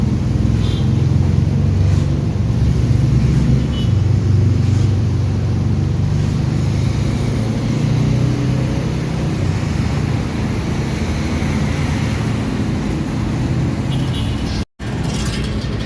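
Dense road traffic on EDSA at night, alongside a newly cemented stretch under rehabilitation, makes a steady, loud low rumble of many engines that holds throughout, with no talk. There is a brief dropout near the end.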